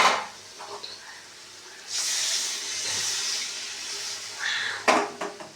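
Water poured into a hot pan of vegetable curry hisses in a broad, steady rush for a few seconds, followed by a few sharp clinks near the end.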